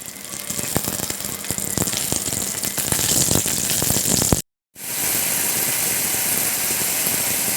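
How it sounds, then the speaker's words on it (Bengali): Pabda fish fry in a pan with a steady crackling sizzle and popping spatter throughout, briefly cut to silence before the hiss resumes evenly. "পাবদা মাছগুলো ভেজে নিচ্ছি।"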